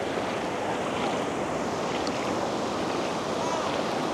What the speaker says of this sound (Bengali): আমার ঢেউর শব্দটা বেশ ভালো লাগে, ওখানে অনেক বড় বড় ঢেউ।